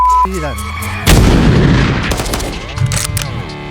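A loud, booming gunshot cuts through a low droning background and rolls into a long rumbling echo, with a few sharper cracks following.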